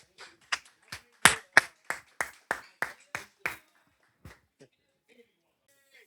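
Roughly a dozen sharp, separate handclaps follow in a quick, even rhythm during a dating-show event, fairly close and isolated against silence, then a few faint stray claps trail off.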